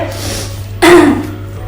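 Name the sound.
coughing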